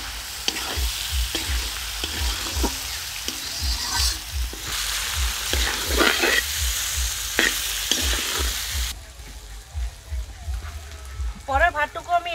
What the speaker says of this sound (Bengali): এখন ভাত আমি এর মধ্যে দিয়ে দিচ্ছি, অল্প অল্প করে ভেজে নেব